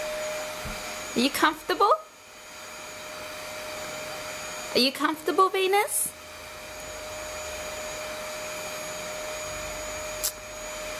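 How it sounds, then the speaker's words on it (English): A vacuum cleaner runs steadily in the background of a room, a constant whirring drone with a faint whine that continues under two short bursts of someone speaking gently to a fluffy pet. "don't mind the vacuum sound in the background."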